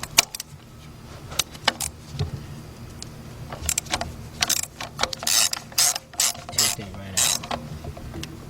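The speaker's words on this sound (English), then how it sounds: "And I got my 3/8 drive ratchet." A 3/8 drive ratchet with a 10mm deep socket on an extension works a bolt during a timing belt and radiator job on a Chrysler-family vehicle, giving bursts of rapid metallic clicks, close and clear, with small clinks between strokes.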